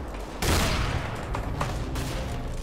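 A shotgun blast in Counter-Strike: Global Offensive, one loud sudden report followed by a sustained rumble of continued firing and a few sharper cracks, close and prominent with no talking.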